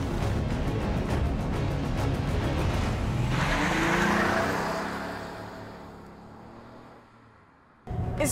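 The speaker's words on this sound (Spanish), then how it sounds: "Vale, entonces voy a parar el coche." A car slows and comes to a stop, its engine roar and tire noise swelling loudly, then dropping away into a fading wind-down before a sudden new burst at the end.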